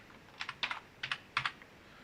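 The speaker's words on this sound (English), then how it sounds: "And hit down again on your keyboard" Keys on a computer keyboard are pressed in a few quick bursts of light plastic clicks, close and crisp, with short gaps between them and no talking.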